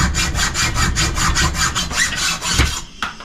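A bolt clamped in a vise is cut down by hand, a steady back-and-forth sawing rasp repeating in even strokes for several seconds, loud and close, with no voices.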